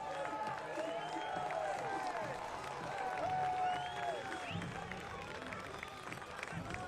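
Home supporters cheering and clapping at Toyota Stadium during a soccer match, a sustained distant roar of the crowd with a commentator talking over it.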